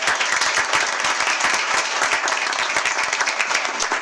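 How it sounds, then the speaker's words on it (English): An audience applauds with steady, dense clapping that holds at an even level from start to finish. "So let's give them a round of applause."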